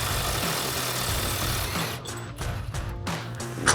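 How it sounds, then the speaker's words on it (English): A pneumatic impact wrench fitted with a 21 mm socket spins off a shock mounting bolt with a flag nut on a RAM 2500 truck, a steady close whirring buzz followed by a few short bursts near the end. "So we've got a 21 mil socket on our impact, and this has a flag nut on the back."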